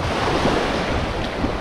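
Sea waves washing onto the shore at the foot of Mount Olympus, with a light breeze, a steady, loud rush of surf and wind noise blowing over the microphone.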